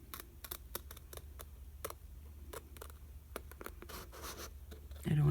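Scissors snip a piece off a paper bingo card during a craft project, making quiet, close, irregular clicks and scratchy cuts, with a louder rustle at the end.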